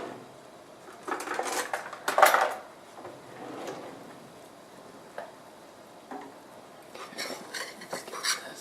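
A metal utensil stirs stew broth into butter and flour in a cooking pot, with scraping clinks against the pot that swell in short bursts, then quieter irregular taps and scrapes, close and alone.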